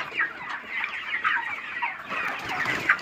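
A dense flock of chickens clucks continuously at a rooftop poultry farm holding about 7000 birds, many overlapping clucks and calls at close to mid distance, steady and fairly loud with no voices.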